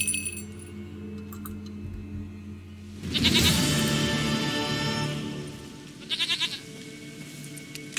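A goat in The Witcher 3 bleats loudly in one long wavering call, followed moments later by a short stuttering bleat, over quiet game ambience with faint clinking.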